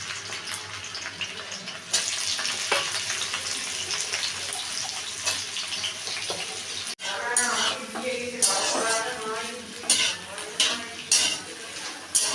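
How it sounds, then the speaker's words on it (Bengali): Washed eggplants go into hot oil in a wok, set alongside drumstick leaves. A steady sizzle and stirring is heard first, then louder bursts of spitting and crackling after they drop in, with some talk in the background. "কড়াই তেল দিয়ে দিয়েছি, তেলটা গরম হয়ে গেছে। এবার আমি বেগুনগুলো দিয়ে দিচ্ছি।"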